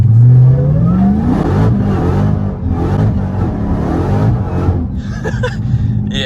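A car on regular street tires launches from first gear, its engine revving loud and close with a rising whine at the start, then a sustained roar as the tires fight for traction.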